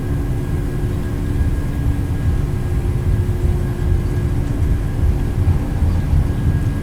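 Airliner engines roar steadily through a takeoff roll in a flight simulator, a dense, constant low rumble with a faint steady whine above, loud and unbroken with no talking.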